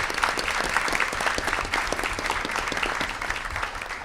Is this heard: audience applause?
yes